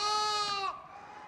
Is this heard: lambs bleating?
yes